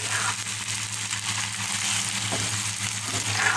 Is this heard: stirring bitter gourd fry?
yes